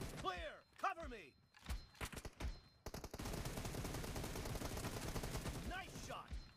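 Gunfire in the mobile battle royale game PUBG Mobile: a few sharp single shots early, then a loud sustained burst of automatic fire, with players shouting over parts of it.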